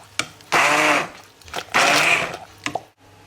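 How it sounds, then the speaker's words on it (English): A kitchen blender whizzes carrot and coriander soup in two loud bursts of about half a second and a second each, separated by brief pauses and small clunks, heard close up. "I'm going to add a bit of salt and whiz it up"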